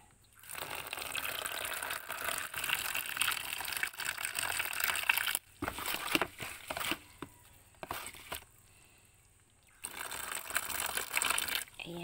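Mineral water is poured over saluyot leaves to wash them, a close splashing trickle running in long stretches with a quiet break before the pouring resumes.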